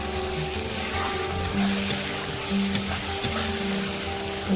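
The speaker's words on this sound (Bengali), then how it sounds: "দিয়ে দেব আদা বাটা, দিয়ে ভালো করে নেড়ে নেব যতক্ষণ না আদা কাঁচা গন্ধটা চলে যায়" Ginger paste fries with melted tomato in a pan and is stirred. A close, steady sizzle runs under a few soft scraping knocks.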